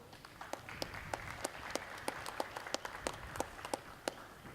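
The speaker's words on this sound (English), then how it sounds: "Give these three a round of applause" A small group claps at a football coaching session, with distinct individual claps popping out at a fairly regular pace, fairly quiet against a low background.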